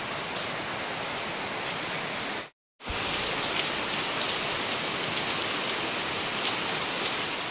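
Heavy rain falls and drips onto muddy ground in a dense, loud, continuous hiss, with a brief silent gap early on.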